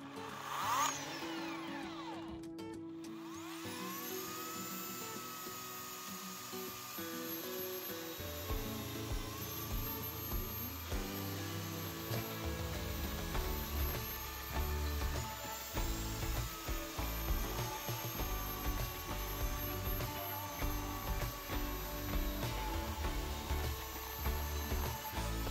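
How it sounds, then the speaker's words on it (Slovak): An electric chainsaw powered by a Bluetti AC200 MAX power station starts up after a few seconds and runs as a loud, steady whine. It cuts wood, and its pitch and strain rise and fall with the load over a long stretch. "Ďalej zariadenie odskúšam aj na elektrické reťazovej píle."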